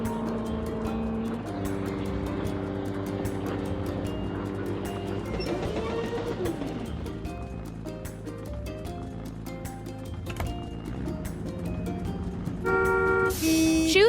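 Ship horn tooting in a kids' vehicle video game as a bridge raises to let ships pass, sounding as sustained tonal blasts over a steady game soundtrack, with a bright chiming jingle near the end.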